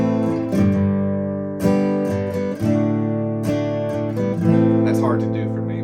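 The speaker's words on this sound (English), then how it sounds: "this is playing with no hammer-ons" An electric guitar plays a riff without hammer-ons: sustained, ringing picked notes in a steady repeating pattern, close and fairly loud.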